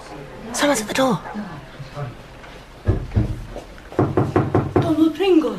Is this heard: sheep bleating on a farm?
no